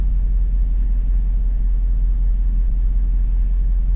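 A car engine rumbles loud and close at idle, a constant deep low drone with no voices over it.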